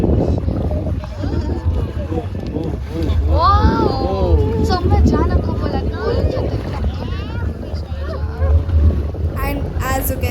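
A boat moves across the sea near the Maldives during an evening dolphin ride, with a steady engine and water rumble and wind buffeting the microphone. Excited voices and squeals rise over it throughout.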